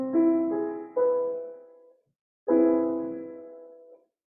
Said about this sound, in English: Theoretically, an augmented major seventh chord is possible.